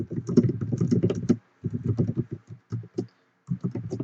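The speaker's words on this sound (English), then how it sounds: "type an example question" Typing on a computer keyboard, close and clear, in rapid bursts of key clicks separated by short pauses.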